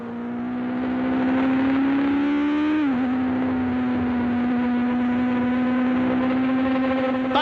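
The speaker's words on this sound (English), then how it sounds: "here's Carlos Reutemann diving his Ferrari inside Mario's Lotus" Onboard sound from a 1979 Swedish Grand Prix Formula 1 Ferrari and Lotus battle: a loud, steady high-pitched racing engine drone, with a brief pitch drop and recovery at a gearshift, and no speech.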